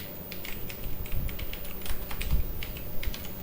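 Rapid clicking of keys on a computer keyboard while a form is filled in on screen, quick irregular taps close up against a steady background hiss, with no voices.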